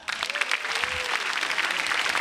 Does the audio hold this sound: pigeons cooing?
no